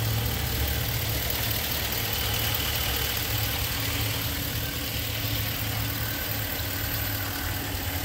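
Supercharged car engine idling, a steady, loud mechanical hum with a continuous whine and faint knocking running throughout, close by and with no talk.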